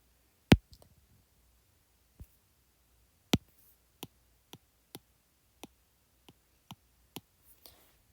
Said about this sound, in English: do it with my finger, all the clicking on the screen.